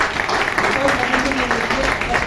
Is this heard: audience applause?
yes